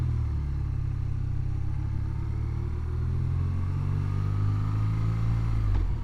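A 2024 BMW R12 motorcycle's engine drones steadily while riding, a loud low throbbing hum with wind noise across the top and a faint clunk near the end.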